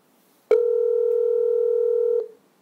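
A single steady electronic keypad tone, one beep held for under two seconds, clean and loud with no other sound around it.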